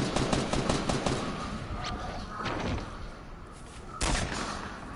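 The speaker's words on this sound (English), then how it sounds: "I hate miniguns." Video-game minigun firing in a sustained rapid burst, a dense rattling stream of shots that runs almost without a break and jumps in loudness near the end.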